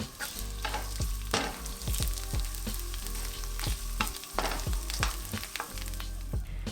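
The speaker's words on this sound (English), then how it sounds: "add your ginger and shiitake. It should start sizzling immediately." Ginger and shiitake mushrooms sizzle and crackle loudly in hot oil, with continuous frying hiss and the scrape of stirring, no voices.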